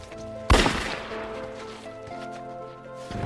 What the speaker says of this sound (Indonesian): pelatuk pistol itu tertarik dan menembak Emma